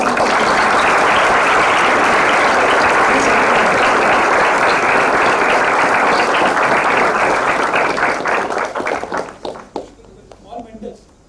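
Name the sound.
audience applause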